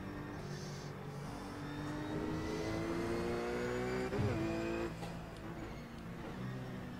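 A BMW race car in the iRacing sim at Spa drives past, its engine droning and shifting pitch as it revs, steady and moderately loud against other engine noise.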